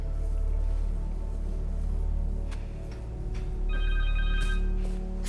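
Cell phone ringing in the video game Spider-Man 2, a faint electronic ring tone entering late over a low, steady ambient drone, with no voices.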